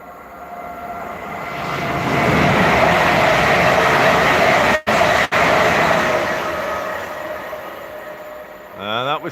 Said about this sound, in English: Here comes the 350.